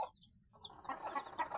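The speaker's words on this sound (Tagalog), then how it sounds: "Yun, napakatapang nitong inahin na to." A broody mother hen clucks in short soft bursts after a brief quiet gap, fairly faint and close, with no talking over it.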